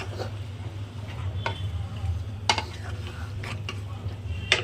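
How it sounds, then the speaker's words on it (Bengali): Boiled jujubes being stirred in a pan for a pickle, soft scraping and clinks of a spoon against metal at irregular intervals over a low steady hum and faint sizzle, close by and without talk. "সুন্দর করে একটু নাড়াচাড়া করে ঢেকে দেব।"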